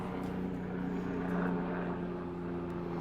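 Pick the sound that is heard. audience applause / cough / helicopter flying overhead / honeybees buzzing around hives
helicopter flying overhead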